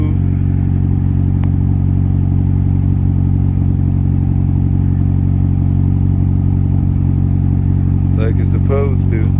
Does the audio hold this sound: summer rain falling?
no